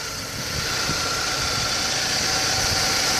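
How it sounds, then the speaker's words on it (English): A 1997 BMW 318 E36 engine idles with the bonnet open, a smooth, steady, close hum that swells slightly at first then holds constant, with no talking. "show you how clean the engine is and how quiet it runs"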